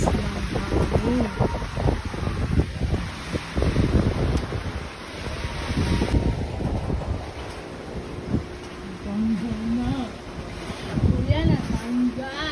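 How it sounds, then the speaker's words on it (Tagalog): Strong typhoon wind roars across an outdoor balcony holding a small pond, gusting and buffeting the microphone in a steady rush, with a voice talking intermittently underneath. "Sobrang lakas ng hangin."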